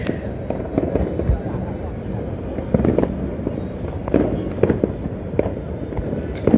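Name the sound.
fireworks exploding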